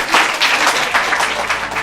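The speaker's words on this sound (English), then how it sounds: "Give him a round of applause." An audience claps loudly after a presentation, a dense, steady burst of applause filling the room for under two seconds.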